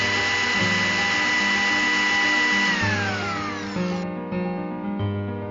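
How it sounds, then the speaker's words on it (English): A kitchen mixer grinder churns refrigerated coconut ice balls into a creamy paste, a loud steady motor whine that shifts pitch as the load changes, with no voices. "Smoothen the refrigerated coconut ice balls in a mixer grinder and make a creamy paste of it."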